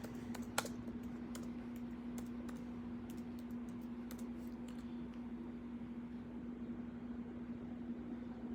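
Typing on a computer keyboard into a search bar: quiet, irregular key clicks with a couple of sharper taps, over a steady electrical hum and room noise, with no talking.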